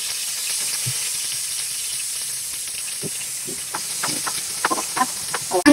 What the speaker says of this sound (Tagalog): Pag mainit na po ang ating grilling pan, lagyan na rin po natin ang ating pork